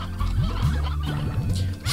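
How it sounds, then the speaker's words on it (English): Chickens in the Slime Rancher video game cluck in a quick series of short, chirpy calls that sound close and steady, with no talk over them. "They're trying to go eat them chickens."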